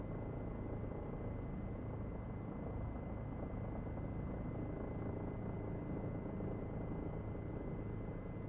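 A Bell 407 helicopter in X-Plane 11 flies near Johannesburg, giving a steady, dense rotor-and-turbine rumble with a faint high whine, constant and unbroken.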